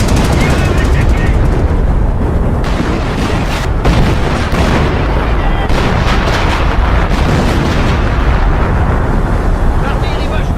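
Dense, continuous artillery booms and rapid gunfire roar loudly throughout a Company of Heroes battle, with shouted French voices buried in the chaotic noise.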